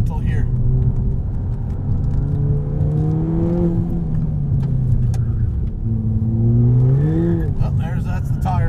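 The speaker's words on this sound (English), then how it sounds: "it's not torque steer so much as it is wheel spin" A Ford Fiesta ST running a 100 octane pro tune, its engine droning loudly up close with rising and falling pitch as the tires spin under power, a brief surge near the end.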